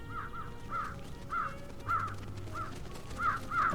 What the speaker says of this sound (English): all the birds are coming here now